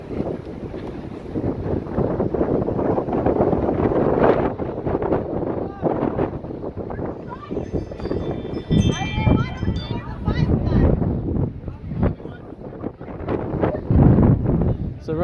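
Strong gusts at the summit of Mt. Washington, gusting 60 to 70, roar and buffet the microphone in heavy surges, with people talking close by.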